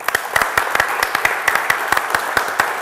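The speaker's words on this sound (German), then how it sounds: "Also einen Applaus für unsere Küche vielleicht." Audience applause for the stage kitchen at a live cooking show, a dense patter of hand claps with sharper individual claps standing out, steady and fairly close for the whole stretch.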